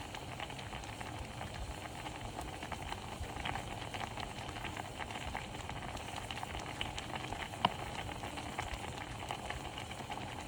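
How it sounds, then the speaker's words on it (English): Rice bubbles and simmers in a pot of water for simple Indian chawal, a soft, steady, continuous bubbling hiss at low volume with no talk. "as you can see, the rice is boiling"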